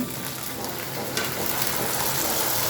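Tomatoes frying in a pan for a stomach kosa curry, a steady dense sizzle throughout that swells slightly louder partway through, close and continuous with no voices.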